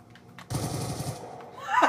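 Machine gun fire from the video game Call of Duty: Black Ops 2, played with a Wii Zapper: a sudden close rapid burst starts after a quiet lead-in and rattles for about a second, ending with a rising whine.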